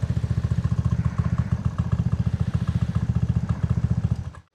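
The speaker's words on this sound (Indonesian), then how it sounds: "Begini bunyi dari Polini Evo ini." A modified Vespa S scooter engine fitted with a Polini Evo kit idles with a rapid, loud, lumpy putter and slight clatter, running steadily close by before cutting off abruptly at the end.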